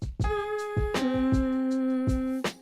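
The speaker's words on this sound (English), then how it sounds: "that is the sound of a minor sixth" Piano notes sound in sequence, a higher tone held then a lower one held, spanning a minor sixth, with soft percussive taps recurring underneath.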